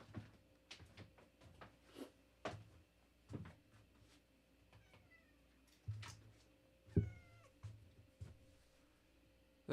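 A house cat meows at a door to be let in, a few short faint calls scattered among bumps and rattles of a door and cupboard, fairly distant and quiet with no talk.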